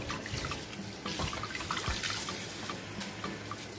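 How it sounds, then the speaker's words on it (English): Water runs steadily with splashing and small drips, like liquid being poured into a container, continuous and close for a few seconds. "I'm just going to add back in some water."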